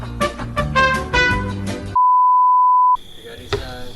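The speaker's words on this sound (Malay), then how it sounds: "Bunyi telefon lagi bunyi." A telephone gives a single steady electronic beep lasting about a second, clear and loud between stretches of someone talking.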